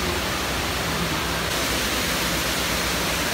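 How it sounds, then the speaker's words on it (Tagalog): Tall man-made indoor waterfall in Dubai Mall, a steady broadband rush of falling water that fills the whole clip without pause, loud and even with no voices on top. "waterfall na to"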